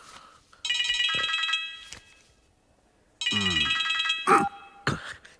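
An old telephone rings in two long bursts of bright trilling bells separated by a pause, close and clear, with brief knocks and thumps between and after the rings and no talk.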